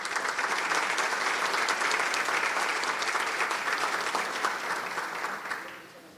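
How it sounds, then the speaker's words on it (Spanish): Sustained applause from a conference audience at the VII Congress of the Dominican Association of Insurance Brokers, a dense, even wash of many hands clapping that tapers off and fades near the end. "nuestro presidente Ricardo Riseca, a quien pedimos un fuerte aplauso"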